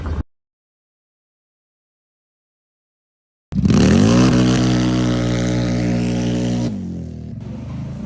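A CFMOTO Gen 2 side-by-side fitted with an RNG clutch kit and Maxxis Roxilla tires drives with a loud, steady engine drone that starts abruptly after a long silence, holds smooth and even, then eases off near the end.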